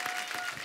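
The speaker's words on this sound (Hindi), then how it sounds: "अब आपकी जोरदार तालियों के बीच प्लीज वेलकम" A short, fairly faint patch of studio audience clapping on The Kapil Sharma Show as a guest is welcomed, a quick, even spatter of many hands.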